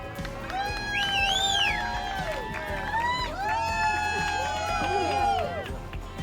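Wedding guests cheer and whoop after a toast, a lively burst of crowd noise with high shouts rising over a steady hubbub for several seconds.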